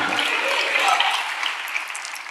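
A church congregation bursts into loud clapping, a dense wash of applause that stays strong throughout.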